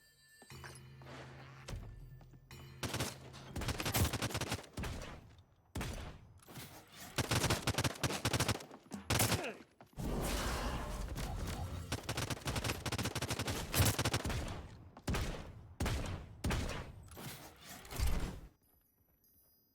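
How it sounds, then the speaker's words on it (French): Loud gunfire in video game trench combat: bursts of rapid automatic fire and single heavy shots come in clustered volleys with brief gaps, close and dominant, with no talk. "Le combat de tranchées qu'on est en train de faire."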